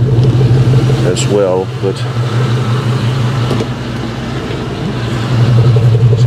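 An old pickup truck's engine idles steadily nearby with a low, even drone throughout, while someone talks briefly over it.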